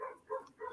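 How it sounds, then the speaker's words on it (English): Several dogs barking outdoors at a distance, three short faint bursts spaced evenly across a brief moment, with no one talking over them. "Can you hear? You hear dogs?"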